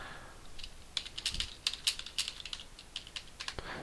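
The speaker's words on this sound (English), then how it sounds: "I press Return." Close typing on a computer keyboard: a quick run of clicky keystrokes at an uneven rhythm that ends with a firmer press of the Return key, heard over a steady room hiss.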